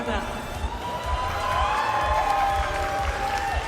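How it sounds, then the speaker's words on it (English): A crowd at the Pokémon Latin America International Championships TCG event applauds and cheers for the staff and crew, a broad sustained ovation with tonal whoops and cries over it. "let's give one final round of applause now for the lovely staff and crew"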